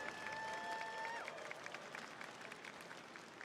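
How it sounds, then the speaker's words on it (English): Crowd applause for the top eight players at an Under Night In-Birth 2 fighting game tournament, a steady wash of clapping and crowd noise with a tonal sound fading out early on. "Can we get a big round of applause for our top 8 for Under Night Inverb 2?"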